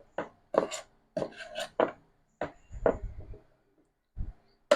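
A knife chops vegetables for a chicken curry masala sauce in a home kitchen, a series of close, fairly loud cuts in irregular bursts with short pauses between them; no one speaks.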